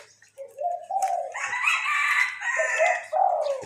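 A bantam rooster crows once, loud and close, in a single drawn-out crow lasting about three seconds in the early morning, with no voices.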